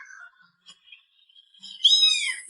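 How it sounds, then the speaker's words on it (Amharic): A cat gives a short, high-pitched meow near the end, following a few faint, scattered sounds in an otherwise quiet room. "ድመቷ"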